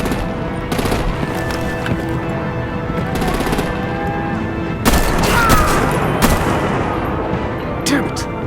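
Dense, continuous artillery gunfire and booming explosions from Batman: The Enemy Within fill the scene, with a heavier blast midway and sharp bangs after it, and no talking.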